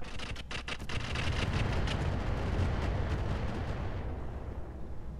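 A barrage of incendiary missiles fires in the mech combat game Roguetech as a dense, rumbling roar of overlapping launches and blasts. It stays steady, then thins slightly at the end.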